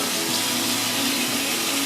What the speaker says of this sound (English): And now you run your cold water with the cold towel.